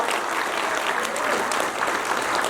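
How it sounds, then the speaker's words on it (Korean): A hall audience at a political party members' education session applauds steadily, a dense, loud wash of clapping with no voices on top. "박수 한번 쳐주세요"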